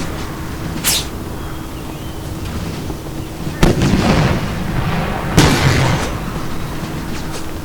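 Six-pounder artillery batteries firing in a Napoleonic-era strategy video game, three sharp booming reports spaced seconds apart over a continuous noisy battle bed.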